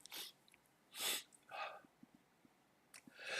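A person sneezes in a short series of breathy bursts, fairly close but not loud, with soft sniffs and breaths in between and no talk.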